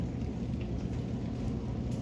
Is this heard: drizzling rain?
yes